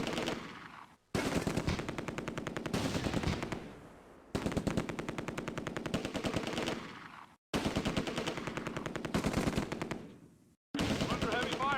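An MG42 machine gun fires in the Close Combat World War II strategy game at Groesbeek, heard as loud, rapid automatic bursts several seconds long, separated by brief gaps.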